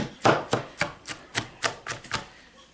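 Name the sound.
chopping food for lacto fermentation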